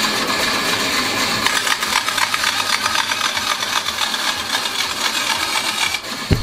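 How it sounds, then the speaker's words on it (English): A bandsaw cuts through a wooden board in a home workshop, a steady continuous rasping whine with slight fluctuations, close and loud, ending in a brief clatter. "I'm just going to use the bandsaw because it's already set up."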